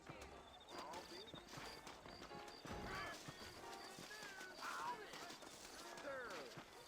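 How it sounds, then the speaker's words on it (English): Saddled horses in Red Dead Redemption clip-clop steadily while whinnying now and then; a voice talks over them throughout. "I got the horses saddled up and ready out front."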